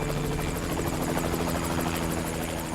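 Helicopter in Splinter Cell Double Agent touching down in Shanghai, a steady loud rotor throb and engine whine holding constant throughout with no talk.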